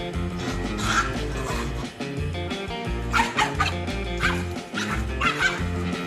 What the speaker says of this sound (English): Taunting dogs is a hobby of mischievous monkeys.